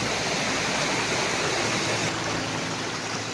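Water pours down Mashenuloddi waterfall in a loud, unbroken roar heard up close, a thick steady wash of sound with nobody speaking.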